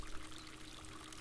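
Water pours onto wheat crops in the video game Spirit of the Island, a brief, soft, steady hissing stream with no talking.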